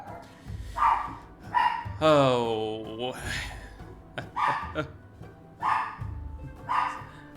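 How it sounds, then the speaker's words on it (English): Dogs barking in the strategy game Humankind, a deeper loud bark alternating with tiny yapping barks, under and between players chatting. "I don't know which one's worse, the loud barking Yes. or the tiny, tiny little barking."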